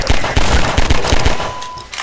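Machine gun fire in Half-Life 2 comes as loud, close, evenly spaced bursts of rapid shots over two seconds, punchy and sharp, with a faint steady tone in the background.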